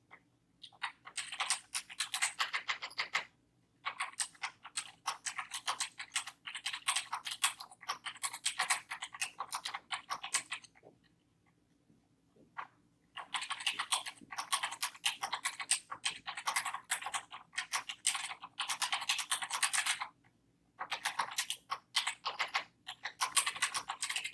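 Someone types a message on a computer keyboard while filling in a follow-up form on a record, producing long runs of quick, close key clicks broken by a few short pauses.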